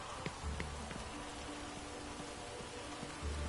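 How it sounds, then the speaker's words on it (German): Rain falls steadily in the video game The Witcher 3, a soft, even patter with faint low thumps over quiet game ambience. "es regnet"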